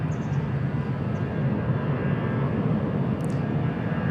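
Thai Vietjet airliner at Bangkok Suvarnabhumi Airport, its engines giving a steady, fairly loud roar that holds evenly throughout with no voices over it.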